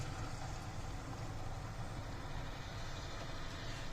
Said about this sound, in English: Hang on, let this truck pass by.